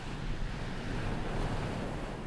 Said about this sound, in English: The power and majesty of the waves on one side